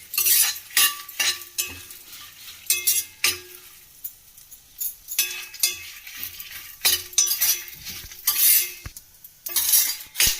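Curry leaves dry roasting in a pan, with a spatula stirring and scraping in irregular clinks and taps against the metal, close and fairly quiet, with no talking.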